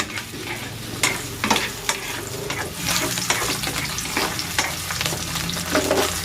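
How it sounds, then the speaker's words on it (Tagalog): Hotdogs sizzle loudly in a hot pan, with a constant crackling fry and occasional scraping stirs and knocks of a utensil against the pan. "Ipiprito ko rin itong hotdog."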